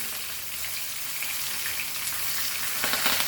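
Garlic flakes sizzle in hot oil for a dal tadka tempering, a steady close crackling fry that grows a little louder and busier toward the end.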